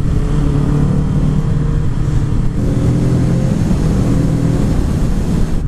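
The engine of a 2019 Kawasaki Z650 middleweight twin motorcycle drones loudly and steadily throughout, heard from on the bike, with strong wind noise and no speech.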